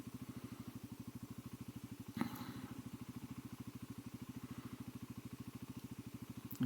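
Genuine G400C scrambler-converted motorcycle rolling along on a hill climb out of a park, its single engine pulsing in a steady, fast rhythm close up, with one brief clunk midway.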